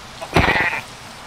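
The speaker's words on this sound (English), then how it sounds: "Are those goats? Yeah, those are goats." A single goat in the Minecraft video game gives one short, nasal bleat lasting about half a second, close and clear against quiet background.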